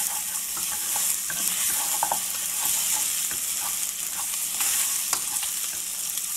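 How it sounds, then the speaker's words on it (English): Steady dense sizzle of paya soup ingredients frying in hot oil, continuous and fairly loud with occasional crackles and spatters, no talking. "So if you cook in this way in the oil, it loses the smell on it."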